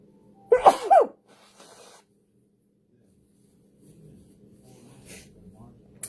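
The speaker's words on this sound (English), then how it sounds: "I'm going to sneeze, and I apologize" A single sharp human sneeze bursts out loud and close near the start, followed by faint rustling and a few soft sounds in an otherwise quiet indoor room.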